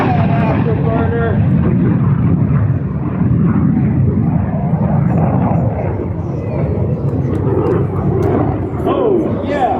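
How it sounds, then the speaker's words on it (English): A Russian MiG-17 jet roars past at an airshow with its afterburner lit, a loud continuous broadband engine rumble filling the whole stretch while people talk over it. "There's that afterburner."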